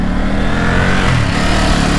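A Voro Motors RoadRunner Pro electric scooter, rated to about 51 mph, accelerating at full throttle: a loud, close, continuous rising whine and rush of motor and wind noise over two seconds.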